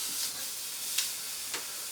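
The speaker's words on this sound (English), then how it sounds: "Lovely sizzle." A corner of gammon sizzles on a Monolith Kamado Classic grill, a steady close hiss broken by a couple of sharp pops.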